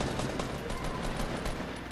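Continuous rapid gunfire in the video game Fortnite, a dense crackling barrage with no pauses over a couple of seconds, moderately loud and without talk.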